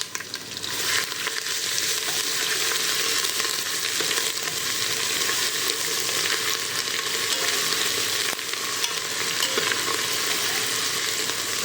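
Garlic and ginger fry for mutton curry in a loud, dense, unbroken sizzle with faint stirring underneath, very close and steady throughout, no one speaking.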